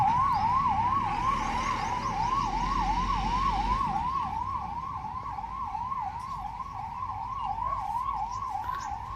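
A wailing ambulance siren cycles steadily up and down in a village in the morning, loud and fairly close, over the hum of passing traffic.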